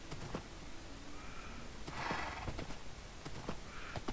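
A Minecraft horse makes faint clip-clop steps, snorts and a brief whinny in the game, quiet and scattered over a hissy background.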